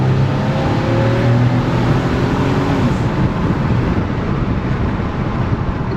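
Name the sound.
old supercharged car engine revving, possible belt slip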